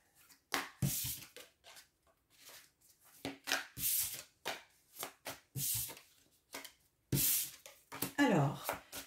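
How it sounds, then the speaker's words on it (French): Tarot cards are gathered up and tidied into a stack, giving a series of close, crisp shuffling and tapping bursts with short gaps between them. "Je range mes cartes."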